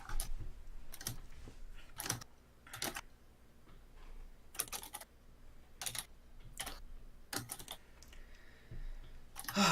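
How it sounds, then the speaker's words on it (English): Fingers tap out bursts of keystrokes on a computer keyboard, quiet and slightly distant, coming in irregular clusters separated by short pauses. "been typing for like half an hour"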